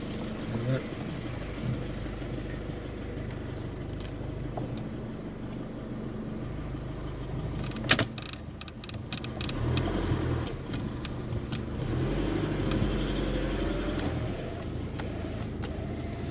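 A 17-year-old Kia Carnival minivan reverses and then drives off on a road test, giving a steady low engine and road rumble throughout, with one sharp click partway through and faint voices underneath.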